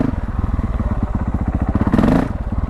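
A Honda CRF450L dirt bike engine idles with a close, steady, throbbing rumble of fast regular pulses, briefly swelling louder near the end.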